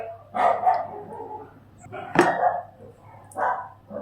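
Several dogs barking indoors in a home, a few sharp barks close by with brief gaps between them and a low steady hum underneath.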